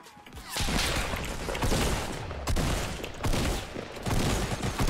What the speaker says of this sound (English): some other guy was shooting at me